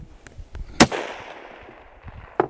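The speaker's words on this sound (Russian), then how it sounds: "Сейчас тогда четвертый еще выстрелим." Outdoor rifle shots from an SKS or Saiga MK03 during muzzle velocity testing. One loud, sharp crack rings out with a trailing echo, and a second shot follows later, set among fainter distant pops.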